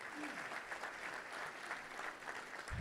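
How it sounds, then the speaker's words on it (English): Guests at a Little Rock Touchdown Club gathering give a round of applause for award sponsors, a steady, fairly distant patter of many hands with a faint voice near the end. "So let's give a round of applause for all the folks who sponsor those great awards."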